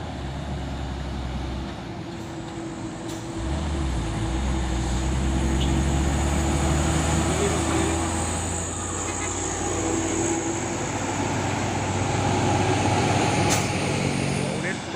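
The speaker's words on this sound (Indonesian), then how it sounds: "Truk trailer kontainer." Heavy container trailer truck crawling up a hill with drilling rig heavy equipment as cargo, a loud low diesel drone that swells and holds near, with brief air-brake hisses and clatter over road noise.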